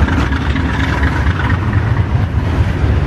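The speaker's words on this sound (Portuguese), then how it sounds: "É a movimentação do porto, são os caminhões, trens, navios" Busy port activity with trucks, trains and ships, heard from a high pedestrian walkway near the ferries as a continuous loud low engine rumble with a dense mechanical drone and no voices.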